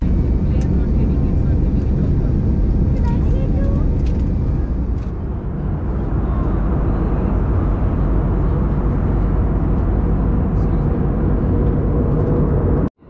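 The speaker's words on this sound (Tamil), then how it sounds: "இப்போ நம்மளோட ஃப்ளைட் ஹைதராபாத்லேருந்து டேக் ஆஃப் ஆகி ஒரு 15 minutes தான் இருக்கும்" An IndiGo passenger jet flying from Hyderabad to Chennai, about fifteen minutes after takeoff, fills the cabin with a loud, constant low roar and rushing air that holds steady throughout before ending abruptly.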